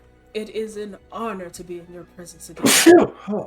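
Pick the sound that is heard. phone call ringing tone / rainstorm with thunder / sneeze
sneeze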